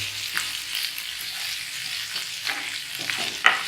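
Spices sizzle softly in a pan over low heat, a steady gentle frying hiss with a few light stirring scrapes and clicks, no voices.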